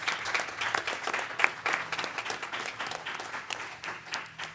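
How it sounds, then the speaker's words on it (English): Steady applause from an audience at a general session, many hands clapping in a moderate, continuous patter with a few sharper claps standing out, no clear speech. "If we could give her a round of applause."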